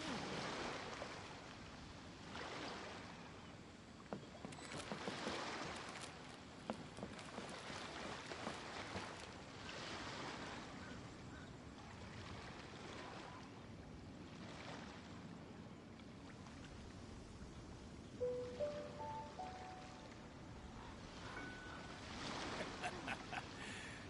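Steady ocean surf washing in waves in the video game Genshin Impact, with rushing wind-like noise throughout and a few faint tonal blips near the end.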